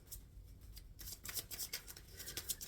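Tarot cards being shuffled by hand, soft rapid riffling bursts and brushing slides, faint and close in an otherwise quiet room.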